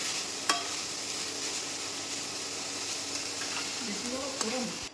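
Meat frying in a pan for a meat chop dish, a steady close sizzle throughout with a couple of sharp utensil clicks and some stirring near the end.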